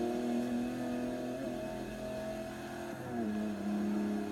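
A truck engine in Forza Horizon 3 drones loud and steady while accelerating, its pitch climbing and then dropping at gear shifts around the middle and near the end, with no talk over it.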